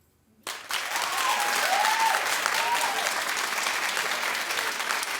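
A studio audience at a daytime TV talk show breaks into sustained, dense clapping after a brief quiet start, loud and steady throughout, with a few voices cheering within the crowd.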